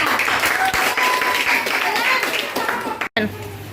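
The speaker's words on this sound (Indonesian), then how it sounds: "tepuk tangan untuk kelompok 3" A classroom of young pupils applauds a group of classmates, steady clapping from many small hands filling the room, with children's voices mixed in before it cuts off sharply near the end.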